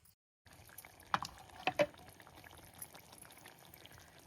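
River fish chutney, Malvani village-style, simmering in a pot outdoors: soft, steady bubbling and liquid sounds, with a few brief louder clinks and splashes near the middle, fairly quiet throughout.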